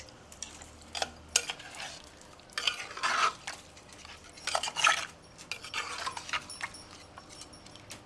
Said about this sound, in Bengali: এটা দিয়ে একটু ভাজা মশলাটা মিশিয়ে নিয়ে